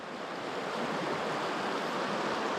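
River water rushes steadily past on a fly-fishing outing in New Zealand, a continuous broad wash of flowing water with some wind, close and constant, no voices.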